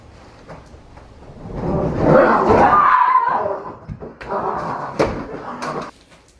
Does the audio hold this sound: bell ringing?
no